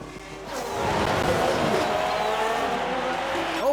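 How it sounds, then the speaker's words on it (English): A race car locks its brakes in the F1 Manager video game, a sustained roaring engine with screeching tire noise rising after a brief quieter start, with voices talking over it. "I think there's been a lock-up."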